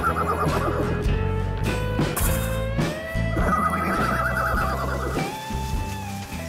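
Horses whinnying over a dense musical backing, with several rising calls standing out over steady music.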